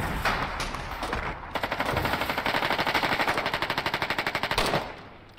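Sustained machine-gun fire in the war game Foxhole, a rapid, steady burst of evenly spaced shots running for several seconds, loud and close, with no talking over it.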